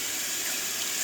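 Water runs and trickles steadily in a small garden pond, a soft, continuous flow heard up close with no talking.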